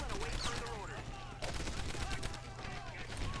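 Submachine gun bursts in the video game Medal of Honor Airborne, rapid dense shots and battle noise filling the clip loudly without pause.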